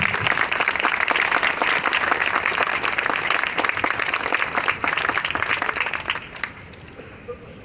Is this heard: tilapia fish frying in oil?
no